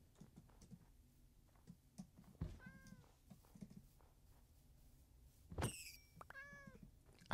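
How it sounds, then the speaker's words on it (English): A white cat in the Minecraft video game gives a few short, rising meows, two clear calls separated by quiet stretches with soft clicking and faint background sounds. "A white kitty."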